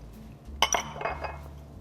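Milk being stirred into dumpling batter in a bowl, heard as a few light clinks of a utensil against the bowl over a short, quiet stretch.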